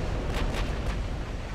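Warship gunfire from the naval battle game Ultimate Admiral: Dreadnoughts, heard as a dense, continuous rumble of blasts with a few brighter bursts standing out, loud and sustained throughout.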